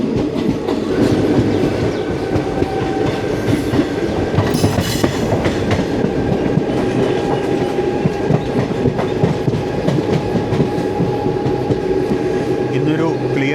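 The Chennai Egmore Guruvayur Express, train 16127, runs steadily on its rails with a continuous rumble and rhythmic clatter of the wheels, heard from on board and carrying on without a break.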